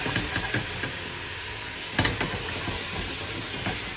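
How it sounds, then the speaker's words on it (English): Ground meat fries in olive oil while it's broken up, a loud close sizzle with rapid scraping and stirring knocks throughout and a sharper clatter in the middle. "Break the meat up, cook it."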